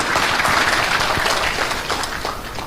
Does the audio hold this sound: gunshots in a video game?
no